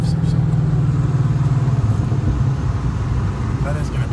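A 2020 Ford Mustang Shelby GT500 Track Pack driving along, its engine a steady low rumble heard from inside the car under a voice talking.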